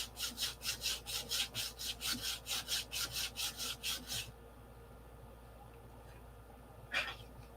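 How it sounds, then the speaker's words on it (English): Sandpaper rubbing back and forth over a divot on a P-47 model aircraft wing, about fifteen quick rhythmic close strokes for four seconds, then quiet with one brief scrape. "See if we can sand that divot out of that."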